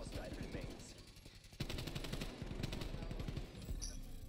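Rapid gunfire in the Call of Duty Cold War video game: dense, sustained automatic bursts with a steady rattling pulse, loud and constant, jumping in level partway through and running under faint background game sound.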